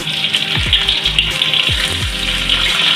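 Chopped onion hits hot oil that already holds garlic in a pan for Keerai Kadayal, a greens curry, giving a steady bright sizzle with a few low knocks from stirring. The frying continues throughout with no talk.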